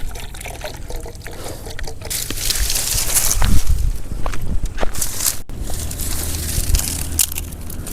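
Water is poured into a pot of eggs at a night campsite on a hilltop, a close, splashy trickle mixed with crunching and shuffling handling noises, with no talk.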